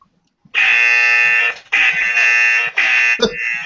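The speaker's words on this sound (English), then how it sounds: "it's a free app that has a buzzer on it" A buzzer from a free phone app gives three long, harsh, loud blasts and a shorter fourth, separated by brief gaps.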